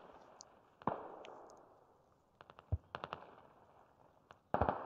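Mortar rounds exploding in the military shooter game Squad, a scatter of muffled distant blasts and sharp cracks arriving irregularly, some singly and some in quick clusters, at fairly low volume.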